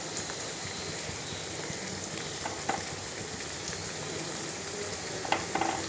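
Pulao stirred and frying with ground garam masala of nutmeg, mace, cumin and pepper in a pan, a soft continuous sizzle with faint scraping stirs and a few light clinks.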